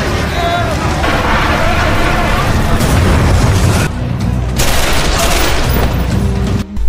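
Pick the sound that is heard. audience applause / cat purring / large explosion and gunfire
large explosion and gunfire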